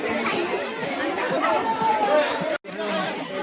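Crowd at Khirachora Gopinath temple, a dense close murmur of many overlapping voices chattering continuously, with a brief cut near the end.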